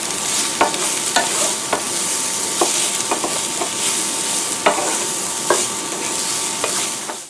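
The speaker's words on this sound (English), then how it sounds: "You're going to stir that in and wait until your onions start to brown too." Onions sizzle steadily in a hot pan while a utensil stirs them, producing a continuous frying hiss punctuated by regular, close scraping clicks, with no voices.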